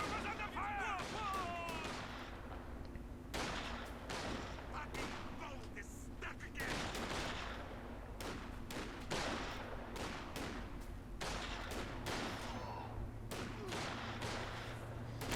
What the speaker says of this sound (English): a pretty close firefight between Vet 2 riflemen and the new Jaeger command squad at you know, mid-range